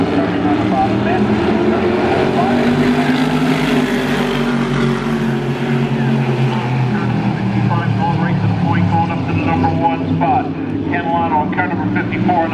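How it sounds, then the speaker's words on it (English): Sunoco modified race cars roar down the back straightaway at Spencer Speedway, their engines droning and rising in pitch as they accelerate past. A commentator talks over the loud, continuous engine noise. "He drops the hammer going down the back straightaway."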